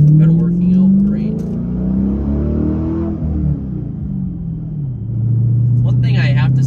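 A Dodge Challenger SRT8 V8 pulls hard in second gear, its loud engine note climbing in pitch, easing off briefly mid-way, then rising again in a strong, close rumble.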